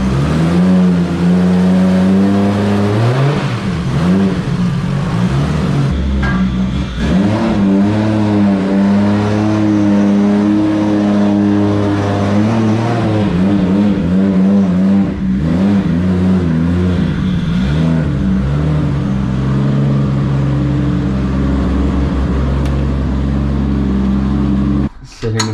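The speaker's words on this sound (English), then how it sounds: "Running pretty sweet. I love this engine. It's so smooth." A Toyota 2JZ engine in a WISEFAB S-chassis drift car idles smoothly and loudly up close after a warm start, its steady drone broken by a few light revs, with someone talking over it.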